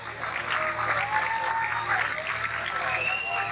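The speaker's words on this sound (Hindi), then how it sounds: "huge round of applause for the athletes of Pakistan Army here." Steady applause from an audience at a national taekwondo championship in Lahore honours Pakistan Army athletes, a moderate wash of clapping that continues evenly with some background voices mixed in.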